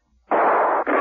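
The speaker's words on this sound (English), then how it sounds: "Verno and Smirnoff, hearing the firing, gave up banging on the door and returned to the action" Sustained burst of gunfire in a radio-style drama shootout, a loud continuous rattle lasting most of a second with a brief gap before it resumes, no voices over it.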